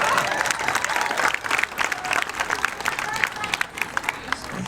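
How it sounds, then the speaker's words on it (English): An audience applauds itself after a speaker's address, a full, sustained wash of many hands clapping, loud and close, with a faint murmur of crowd noise running through it. "So give yourselves a round of applause."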